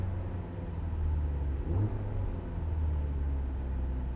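Car engine revved by an accelerator press, a low idle rumble that swells briefly into a mid-pitched rev and settles, then rises again; moderately close, no talk.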